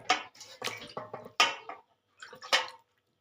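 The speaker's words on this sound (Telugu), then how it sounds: "వాష్ చేసి చూద్దాం" Hands stained with homemade lemon and sindoor mehndi being rinsed with household water: close, intermittent bursts of splashing and dripping in short irregular pulses separated by brief pauses.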